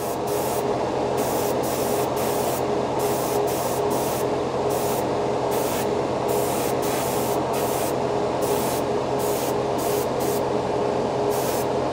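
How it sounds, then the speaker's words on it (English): Paasche H series single-action airbrush spraying heavy enamel paint, a steady continuous hiss broken by regular short bursts as the trigger is worked, close and fairly loud with no talking. "This airbrush works really good for enamels"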